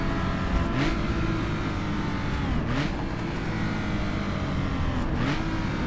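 Historic racing car on board at the Longford road circuit, engine droning loudly then dropping pitch under braking and rising again on acceleration, three rev cycles over a steady close mechanical roar.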